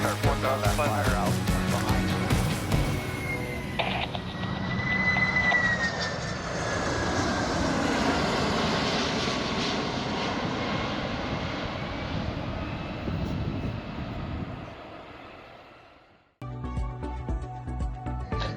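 Aircraft engines starting up at Nevada County Airport: a loud, sustained engine roar with a rising whine as the engines spool up, holding steady before cutting off abruptly near the end, followed by a different, busier sound.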